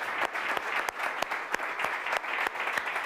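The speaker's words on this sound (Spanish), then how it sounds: "un fuerte aplauso, por favor" A sala audience applauds guests at a Spanish-language talk on agentic AI, with steady, dense clapping and a few sharper individual claps standing out, sustained at moderate level throughout.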